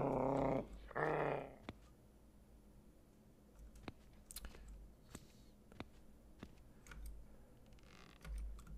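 A dog in the horror video game Cannibal Abduction growls in two short, loud bursts near the start, followed by quieter scattered clicks and taps with no one talking.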